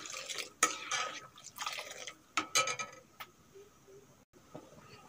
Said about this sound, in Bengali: এখন গোলানো দুধটা ঢেলে দেব।